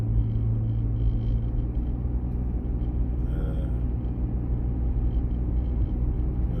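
Steady low road rumble and engine drone from inside a car driving through the hilly, wooded Rockland area, continuous and fairly loud with no talking.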